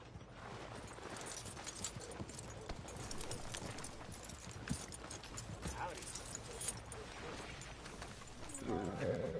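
Rhythmic clip-clop of horse hooves in a PS4 video game, with creaking, mechanical rattles underneath, fairly quiet and steady throughout.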